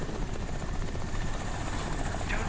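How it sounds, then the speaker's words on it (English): A massive helicopter passes overhead with a loud, steady rotor and engine roar that fills the whole stretch, with no talking. "Don't shoot if you see the massive freaking helicopter."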